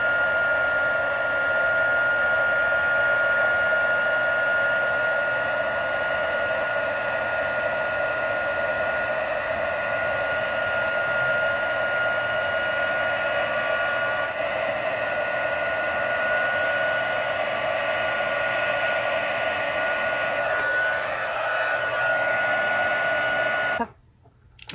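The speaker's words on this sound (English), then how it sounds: "I'm gonna take a second and heat emboss this" A heat embossing tool blows steadily over a stamped card, a constant whirring hiss that holds even and close for nearly the whole span before cutting off abruptly at the end.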